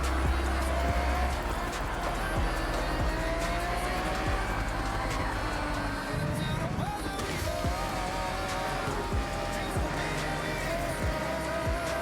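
A BMW drives in the Forza Horizon 6 racing game. The engine drones and revs steadily throughout with shifting pitch, some tire noise and occasional thumps.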